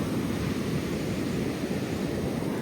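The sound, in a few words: big sea waves breaking on Dahanu beach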